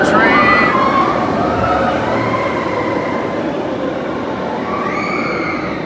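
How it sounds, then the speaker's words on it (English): A Disney World monorail train rolls by overhead along a pathway beneath the Tron ride, a steady loud mechanical rumble with rising and falling tonal whines throughout. "Here comes another train."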